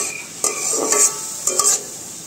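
Chopped bottle gourd fries in a pan for a village Ekadashi offering meal, with a steady sizzle broken by a few louder scraping stirs of a spoon against the pan.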